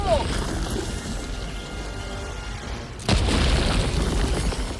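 A grenade blast in Helldivers 2 lands as a single deep boom about three seconds in, followed by a sustained rumbling roar over steady battlefield noise.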